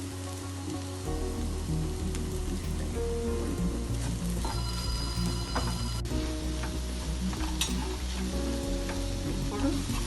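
Ivy gourd (dondakaya) fries in a pan with a loud, continuous close sizzle and crackle, steady throughout with occasional stirring scrapes, no talking.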